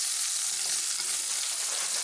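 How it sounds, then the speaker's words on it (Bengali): Onion frying in olive oil as pasta sauce is started makes a bright, even crackling sizzle that stays steady and close throughout, with no voices. "তেলের মধ্যে আগে আমি পেঁয়াজটাকে দিয়ে দিচ্ছি।"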